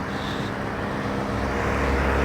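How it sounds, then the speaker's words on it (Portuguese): Road traffic on a street: a continuous loud rumble and wash of passing cars that swells slightly toward the end, with no voices. "começa a ter barulho, poluição sonora e tá passando os carros aí com a sirene ligada"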